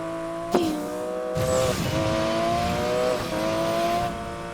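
A Porsche in the Need for Speed Payback racing game drives with a steady engine drone, a sharp impact near the start, then a burst of revving and tire squeal as gears shift, staying loud and continuous throughout.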